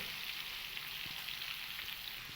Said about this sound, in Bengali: এবার এই পটলগুলোকে আমি মিডিয়াম আঁচে খুব ভালো করে একটু ভেজে নেব